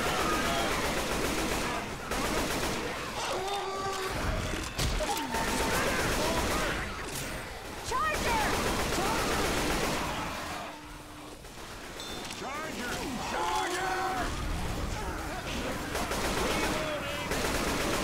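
Sustained automatic gunfire in Left 4 Dead 2 co-op survival play on a train car, dense rattling bursts with brief lulls, loud and continuous, with voices calling out over it.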